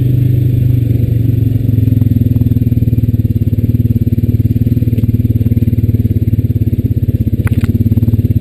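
A Honda Rancher 420AT ATV rides along a rough, dried-out path near a swamp, its engine droning steadily and loud throughout, with constant clattering and rattling from the bumpy ground.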